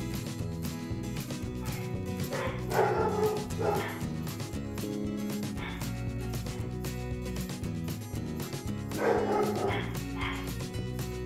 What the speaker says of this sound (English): Dogs are barking, which meant yarn delivery.